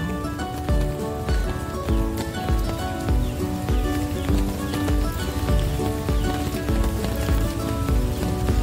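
Monsoon rain falls steadily in a mangrove forest, a dense, even patter with close drips hitting surfaces throughout.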